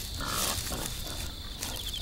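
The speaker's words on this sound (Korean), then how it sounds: "벼알 서리에 멧돼지들도 끼어들었다." Wild boars grunt softly among ripening rice fields in autumn, a faint, low snuffling beneath a steady hiss of outdoor ambience.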